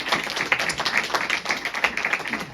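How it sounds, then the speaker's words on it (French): A hall audience at a Téléthon charity event in Saint-Pierre-du-Chemin claps loudly for school children, a dense, even burst of many hands applauding nearby. "on peut applaudir très très fort les enfants des écoles"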